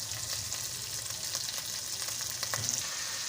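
Spice masala frying in a pot for chicken malai handi, a steady close sizzle with light stirring scrapes throughout, no talk.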